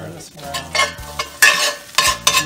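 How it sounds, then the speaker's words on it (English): Rosemary fries in oil and is stirred around the pan, giving loud, close bursts of sizzle with scraping strokes that come in a quick, uneven rhythm. "Throw in a bunch of rosemary. That's good. Just stir this around. You want to flavor that oil."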